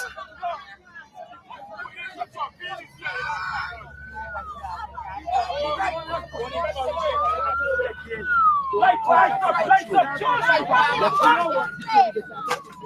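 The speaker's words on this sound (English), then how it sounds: "I can hear sirens in the distance" Sirens in Guyana wail in rising and falling sweeps, fairly distant, beneath people talking and a murmur of background voices.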